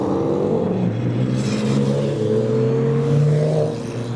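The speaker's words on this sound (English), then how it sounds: "Cars then are heading out onto the circuit for the very first race of the season" Porsche race cars heading out onto the Donington Park circuit at a club championship race, loud engines droning and rising as they pull away, overlapping in a steady close roar.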